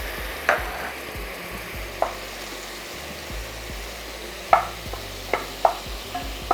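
Tuna and garlic cook in a pan with a soft, low sizzle, broken by several sharp clinks and scrapes of a utensil stirring against the pan at irregular intervals.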